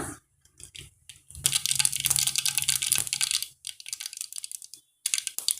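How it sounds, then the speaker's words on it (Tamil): Mustard seeds splutter and pop in hot oil in a pan, with dense crackling bursts that come in waves and stop short, then break out again briefly. "எண்ணெய் நல்லா காஞ்சி வச்சிங்க இப்போ நாம் கடுகு சேர்த்துடலாம்"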